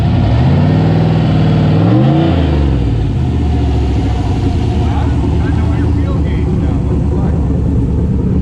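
A 6.0 turbo LS engine runs loud and steady close by, its revs sweeping up and falling back early on before settling into a rough, droning idle, with people talking over it.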